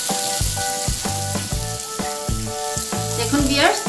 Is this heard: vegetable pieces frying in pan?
yes